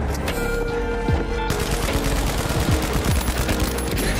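Rapid bursts of automatic gunfire in the video game The Finals as shots hammer a deployed shield, dense and loud throughout with sharp impacts, no talking.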